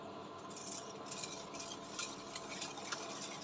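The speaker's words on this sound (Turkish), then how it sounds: "Şöyle karıştırıyorum pürüzsüz hale gelinceye kadar." A milk mixture is stirred in a pot for a cake filling, with a continuous soft scraping and swishing of a utensil against the pan and light clinks over a steady low hum.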